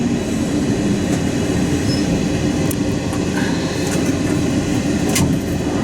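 Loud, continuous rumble of a London Underground train pulling into a station on the line between Camden Town and Morden, with rolling wheel noise and occasional faint metallic squeals and clicks.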